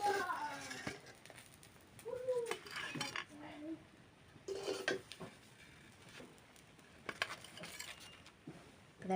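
Cooked baul fish paturi parcels are lifted out of a pan, with scattered metallic clinks and scrapes of utensils against cookware, fairly quiet, alongside some talking.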